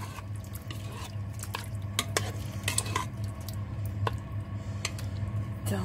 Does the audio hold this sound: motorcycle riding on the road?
no